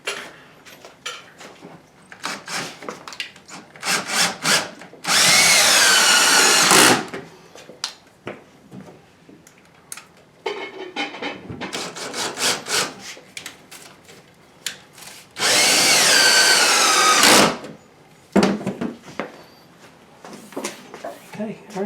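A power drill drives screws into a wall beam to mount a kitchen cabinet, with two loud bursts of about two seconds each, separated by clattering handling and tool noises.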